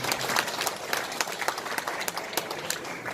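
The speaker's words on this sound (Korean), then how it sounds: "큰 박수 한번 나가셔야 될 것 같아요" An audience at a city economic revival forum in Gumi, South Korea breaks into lively applause, close, dense clapping with distinct individual claps standing out through the whole stretch.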